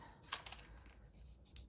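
Scissors snip through fabric in a few quick, crisp cuts, close and quiet, with short clipped strokes and brief pauses between them.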